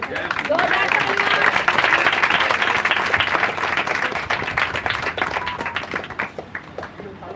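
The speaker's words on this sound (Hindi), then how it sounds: "यीशु के दास का भी हम स्वागत करते हैं। जोरदार तालियां।" Loud applause from a church congregation rolls on as dense, energetic clapping, then thins and tapers slightly toward the end, with a few individual claps standing out.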